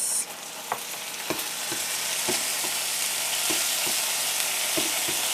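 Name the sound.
garlic and onion sautéing as soy sauce is added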